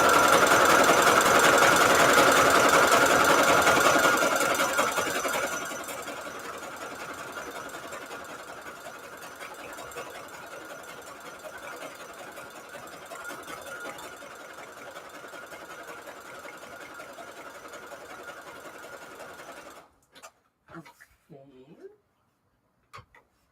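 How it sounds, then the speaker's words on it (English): A sewing machine runs a zigzag stitch around a Valentine's Day junk journal signature, whirring loudly and steadily at first, then carrying on more quietly before stopping with a few short clicks at the end. "So let's put a little zigzag stitch around."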